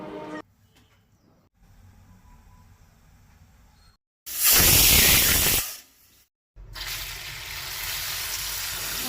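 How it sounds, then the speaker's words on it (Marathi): A pressure cooker holding soaked chickpeas in water lets out one loud, steady whistling hiss of steam for about two seconds. Quieter background noise comes before it, and a softer, continuous hiss follows. "कुकरान उदक घालून 3 शिटयो काढून घेवपाक जाय।"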